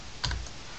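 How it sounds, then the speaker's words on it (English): A few quick keypresses on a computer keyboard's arrow keys, clustered together as short soft clicks at close range in an otherwise quiet room. "And again, arrow keys to move down again."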